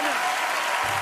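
A comedy club audience bursts into applause after a stand-up bit about sport in Spain, steady dense clapping throughout the short burst with a faint low voice entering near the end.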